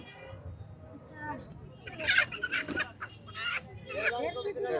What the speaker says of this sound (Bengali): এই হচ্ছে সেই পাহাড়ি মোরগ